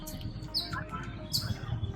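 Birds chirping in Cubbon Park, Bangalore: a few short, bright calls stand out over a steady low rumble of park background noise.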